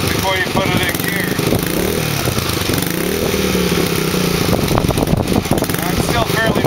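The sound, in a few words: 125cc dirt bike engine idling on half choke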